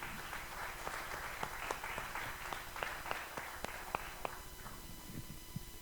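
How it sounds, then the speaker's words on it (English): A meeting crowd gives scattered, moderate applause for youth and ministry volunteers, irregular hand claps continuing for several seconds before tapering off. "perhaps we should give them an applause as well"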